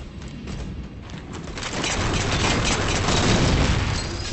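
A burst of explosions in Halo 4 multiplayer, several heavy booms rolling together into one dense, rumbling blast that swells and holds over a few seconds with no talking.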